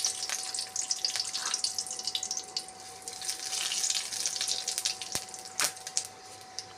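Dry red chilies and five-spice seeds hitting hot oil in a heated kadai for dal tempering, with a steady crackling sizzle and a few sharper pops.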